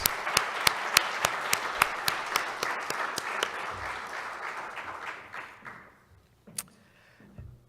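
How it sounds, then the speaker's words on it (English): Audience applause at the USPTO Patents for Humanity awards ceremony, a loud, full round of many hands with a few crisp nearby claps, fading out toward the end before a last stray clap. "let's have one more round of applause for all our Patents for Humanity winners"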